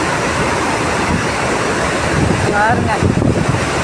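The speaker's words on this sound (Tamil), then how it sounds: "செம்மையாக போய்கிட்டு இருக்கு தண்ணி" Released dam water rushes down the Vaigai river, a loud, dense roar mixed with wind buffeting the microphone, continuous throughout, while someone speaks briefly over it near the end.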